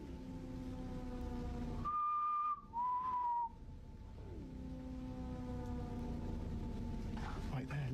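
A mysterious whistle is caught during a paranormal investigation recording, two clear sustained tones, the second slightly lower and wavering, rising over a faint background hum, with voices murmuring before and after.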